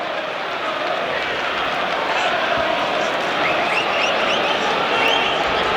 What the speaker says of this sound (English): that's why the crowd are booing